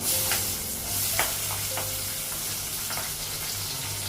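Onion and potato fry with cinnamon, panch phoron and green and dried chillies in a pan, giving a steady close sizzle broken by occasional clinks and scrapes of a stirring utensil.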